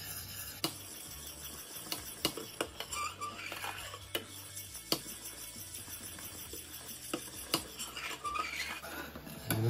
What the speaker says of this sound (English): we're going to keep stirring